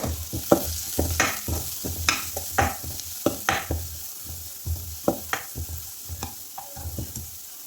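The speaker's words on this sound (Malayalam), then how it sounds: "പിന്നീട് അര ടീസ്പൂൺ മഞ്ഞൾ പൊടിയും 1 ടീസ്പൂൺ മുളക് പൊടിയും 1/2 ടീസ്പൂൺ മല്ലിപ്പൊടിയും കൂടിയിട്ട് വഴറ്റി കൊടുക്കുക." Spinach and chana dal with turmeric, chilli and coriander powder stir in a pan, with steady scraping strokes of a spoon over a soft sizzle, close and moderately loud, no voices.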